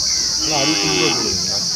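A bullock at the Anthiyur Gurunathaswamy temple festival, among paired cart bulls, gives a single low drawn-out moo that rises and falls, close, over a steady crowd hum and murmuring voices.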